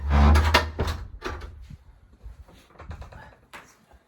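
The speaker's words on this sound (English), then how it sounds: "Get the door shut there." The door of a remote stone cottage pulled shut, a loud thud at the start followed by fainter knocks and rattles, with no talking.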